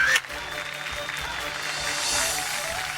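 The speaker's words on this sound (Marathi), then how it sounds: "एकदा जोरदार टाळ्या." A studio audience at a Marathi TV women's show breaks into applause that swells from a brief dip and grows strongest near the end, with some voices mixed in underneath.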